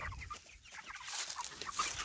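A flock of meat chickens in a field tractor pen clucks and chatters continuously, a busy close chorus of overlapping bird calls with no talking.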